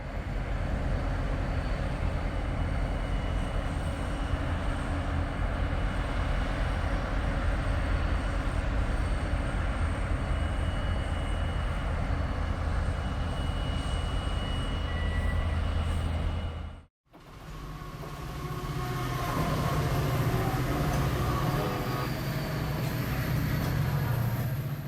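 CSX freight train near Cartersville Station, a steady loud rumble of rolling railcars that runs continuously, drops out sharply for a moment, then resumes with clattering wheel noise.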